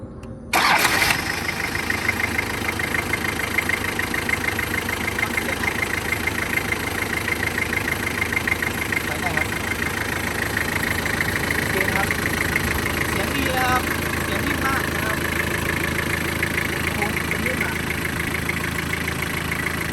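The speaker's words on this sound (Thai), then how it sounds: "อยากให้ฟังเสียงว่าเครื่องที่มันดีๆเป็นยังไงนะครับ" A 1999 Toyota Hilux Sport Rider 3.0 D 4WD diesel engine starts with a sharp catch, then settles into a steady, even idle close by, with faint voices in the background.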